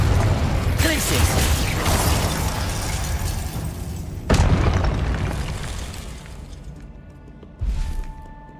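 Glacius freezing spell impacts in the Hogwarts Legacy video game, loud dense crashing bursts with booms, one strong hit midway and another sharp burst near the end, each fading into ringing debris.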